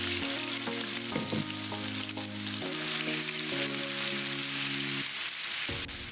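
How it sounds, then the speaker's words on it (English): Continuous crackling sizzle of chicken frying in hot oil in a pan, with steady music playing underneath throughout. "I'll give it time to fry until it's golden brown."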